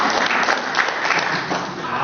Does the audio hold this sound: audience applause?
yes